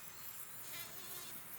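Bees such as anthophora and bumblebees feeding on comfrey flowers make a faint, close, continuous buzzing hum that wavers slightly in pitch over a short moment.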